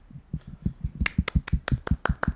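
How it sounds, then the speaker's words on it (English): A few people clap quietly and unevenly at a convention panel, sparse sharp claps that start soft and grow a little denser, close and thin with no big crowd behind them. "No one else is applauding, just us."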